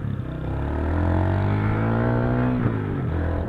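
A 150cc motorcycle engine revs up and holds a loud, steady drone with rising pitch, close by, before a brief dip and recovery, with no talking.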